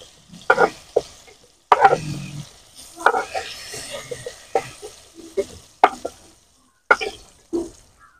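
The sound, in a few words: stirring food frying in oil in a wok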